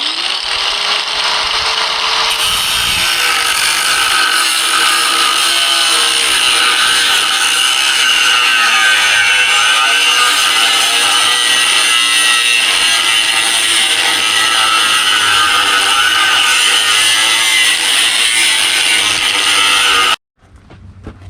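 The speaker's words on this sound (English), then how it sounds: "Use just a cutoff wheel and just cut right along that line" A cutoff wheel grinds through the steel deck plate of a Bucyrus Erie 10B crane in one long, loud, continuous high-pitched screech at close range, stopping abruptly near the end.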